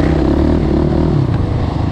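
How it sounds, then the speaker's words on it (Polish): A quad bike engine rumbles and revs outdoors, a loud, low, steady motor drone held under throttle with slight rise and fall. "Tak, Krzysiu, nie odpuszczaj gazu."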